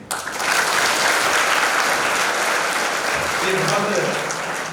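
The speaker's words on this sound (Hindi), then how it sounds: "ताली बज सकती है।" An audience at a Hindi Day poetry reading in Nadiad breaks into sustained, dense applause that holds steady for several seconds before tapering slightly, with voices mixed into the clapping.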